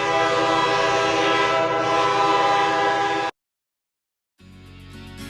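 Loud, close train rumbling past with a sustained horn blast, a harmonic tone over heavy broadband noise for about three seconds, then sudden silence before a quieter rail noise returns.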